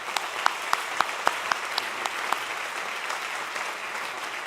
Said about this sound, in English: So again, another round of applause for them